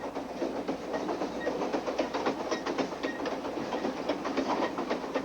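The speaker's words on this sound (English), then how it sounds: "the sound, feel, the smell even of the diesel locomotive" A diesel-hauled passenger train rolls along rails through rocky Canadian country, with a steady rumble and a rhythmic clickety-clack of wheels over rail joints, heard from aboard at a constant moderate level.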